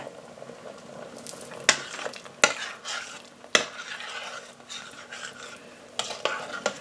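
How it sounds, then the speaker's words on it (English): Mushrooms cook in an Instant Pot pot for a beef bourguignon, a soft bubbling sizzle under sharp spoon knocks and scrapes against the pot, close and intermittent, no voices. "We want to cook the mushrooms now."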